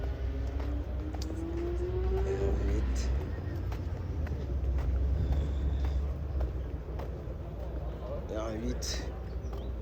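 Porsche and Ferrari competition cars run at Le Vigeant during a 500-Ferrari charity event, a steady engine rumble with rising revs from passing cars, fairly near and under crowd chatter.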